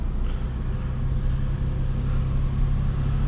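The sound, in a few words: BMW M340i accelerating under full throttle with turbo flutter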